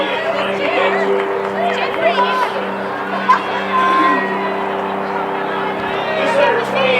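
Steady murmur of a large crowd chattering at a girls' varsity high school soccer quarterfinal, a low continuous hubbub with a loud voice speaking over it and occasional brief shouts.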